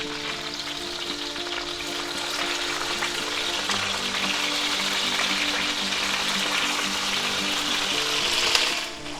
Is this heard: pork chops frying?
yes